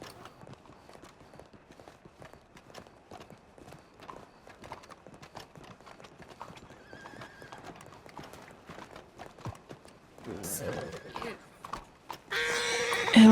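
Horse hooves clip-clop steadily at a walk, close and rhythmic, followed by louder snorting and shuffling near the end.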